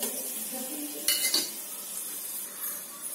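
Cinnamon, cloves, cardamom and bay leaf crackle in hot cooking oil, a steady close sizzle with a couple of sharp spoon-against-pan clinks and no talking.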